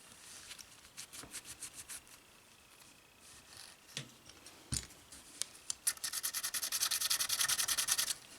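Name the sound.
scuffing with 220 grit sandpaper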